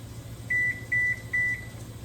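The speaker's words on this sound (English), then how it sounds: "The timer went up." An oven timer beeps three times, each a steady high tone of about a fifth of a second, evenly spaced, clear and close over a low hum.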